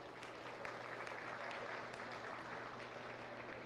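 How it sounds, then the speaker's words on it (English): An audience at a county fair livestock arena applauds young intermediate-division showmen, a steady patter of clapping at moderate distance that holds evenly throughout with no talk over it. "Let's give them a nice big round of applause."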